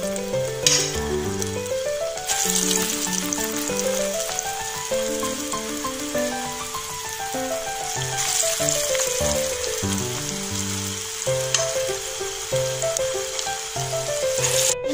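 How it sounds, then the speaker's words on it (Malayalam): Homemade falafel balls deep-frying in oil in a pan, a steady crackling sizzle that continues throughout, close up and fairly loud, beneath a melodic music track with no talk. "ഇനി നമുക്ക് ഓരോന്ന് ഇതിലോട്ടിട്ട് പൊരിച്ചെടുക്കാം."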